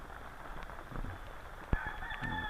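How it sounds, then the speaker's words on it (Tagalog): A Peking duck in a backyard poultry pen gives a single sharp, nasal honk, then a few drawn-out calls over steady low background noise. "Nabili ko tong Peking duck na to sa Pampanga pa."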